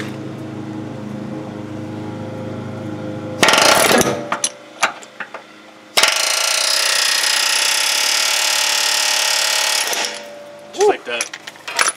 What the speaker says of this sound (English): I'm gonna use this air hammer with this flat chisel over here to pop these bolts out.